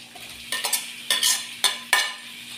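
Ginger and tomato frying in a pan are stirred in several quick scraping strokes, each a short close burst of sizzling clatter over a faint steady background.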